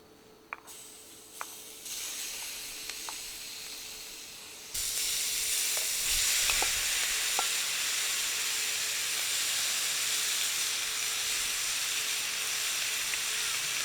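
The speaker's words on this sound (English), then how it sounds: "We'll go ahead and just cook it right here on this rock because this is going to stay hot for a little bit." Meat sizzling on a hot rock out of doors, a steady hiss that jumps louder partway through and holds, broken by a few faint clicks and taps.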